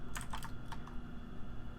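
Computer keyboard keys tapped during 3D modeling work, a quick cluster of four or five crisp clicks followed by a couple of lighter taps, close and alone over faint room hum.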